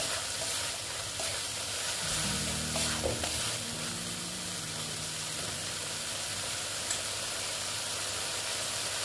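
Vegetables fry in a pan with a loud, constant crackling sizzle, and a spatula scrapes and stirs briefly partway through.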